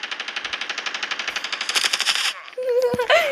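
Rapid automatic gunfire rattles off in a steady burst of about twenty shots, then cuts out, followed by game sound effects and a brief whine.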